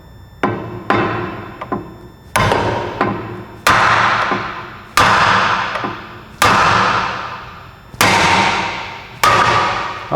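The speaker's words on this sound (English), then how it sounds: "hammer method totally works" Heavy hammer blows knocking a fluid-filled part loose during an LS engine swap, eight or so loud, ringing metallic strikes at irregular intervals, some with quick lighter taps in between, each decaying with a long resonant tail.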